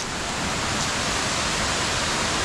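A waterfall in the Knuckles Mountain Range roars as a steady, dense wash of falling water, loud and continuous from start to finish with no break.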